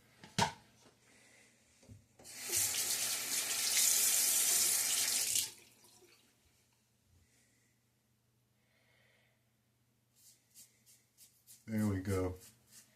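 A bathroom sink tap runs during a wet shave, a steady rushing stream of water into the basin for a few seconds, with quiet handling noises around it and a short burst of speech near the end.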